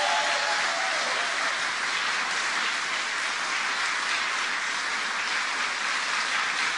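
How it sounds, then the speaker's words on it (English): Applause from an audience at a New York governor's press event, a dense, loud and sustained roar of many hands clapping at an even level for nearly seven seconds, with no speech over it. "Give yourselves a round of applause."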